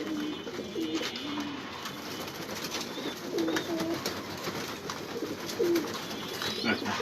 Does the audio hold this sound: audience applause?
no